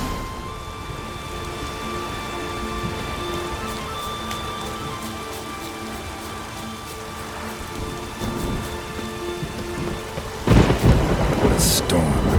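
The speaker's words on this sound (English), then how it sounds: "What a storm, damn it." A thunderstorm in The Witcher 3 brings steady rain hissing on surfaces under a low, rolling rumble of thunder, which swells into a louder, heavier crash near the end.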